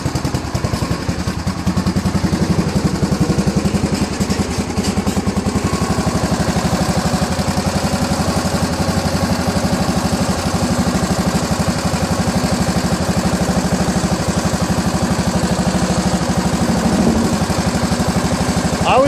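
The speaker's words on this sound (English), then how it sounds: "put like a small little push mower type engine into a lawn tractor and making it work. And it certainly works." A Kawasaki FC290V 9 hp push-mower engine fitted into a Scotts by John Deere L17.542 lawn tractor idles loudly and steadily up close, a constant rapid chugging throb with light mechanical clatter.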